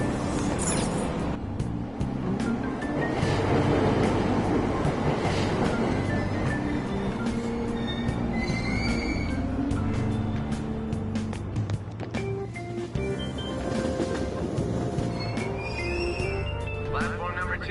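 Train at a station platform in the video game Persona 5 Royal, a steady rumbling carriage and engine bed running throughout, with a platform announcement voice speaking over it and brief clanks near the end.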